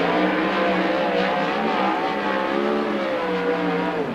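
A 410 sprint car with a DRC chassis and Speedway Chevy engine on a USAC oval qualifying lap, its engine screaming loud and sustained at high revs with shifting pitch, no talk.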